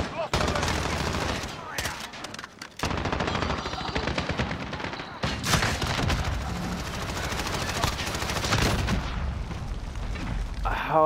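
Rapid bursts of automatic gunfire from a video game set around shipping containers, loud and near, rattling almost without pause across the clip, with a few short gaps and booming shots mixed in.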